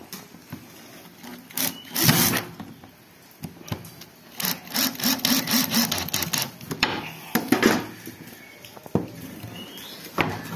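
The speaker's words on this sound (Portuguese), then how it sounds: "Aí eu tô furando assim, ó, para mim parafusar" A hole being drilled in an iron piece for a scrap screw while making a decorated tile hanger, heard as bursts of grinding, rasping drill noise broken by pauses, close by, with no talk.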